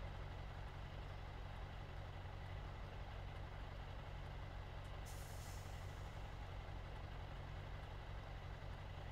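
Steady loud truck engine idling and rumbling throughout, with one short hiss of air brakes midway, as the truck pulls forward onto weighing scales at a roadside inspection. No voices.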